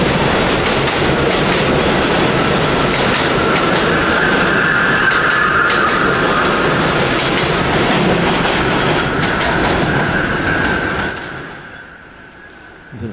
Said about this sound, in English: Anyways, the subway runs above ground.